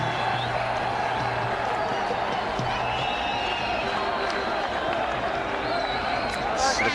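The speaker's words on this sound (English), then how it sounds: "The crowd enjoying it." The stadium crowd at a Sharjah Coca-Cola Cup cricket match between India and Pakistan cheers and claps as a steady roar under a commentator's continuous talk.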